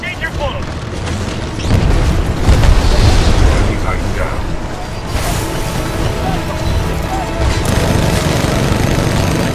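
Heavy booms and explosions from weapon fire in the mech shooter Titanfall 2, loud and dense throughout, with a rumbling low end, bursts at a few points and voices talking over the battle.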